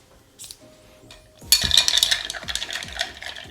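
Ice stirred with a bar spoon in a mixing glass for a coffee Negroni: after a quiet clink or two, a steady rattling swirl of cubes knocking against glass starts up close and keeps going.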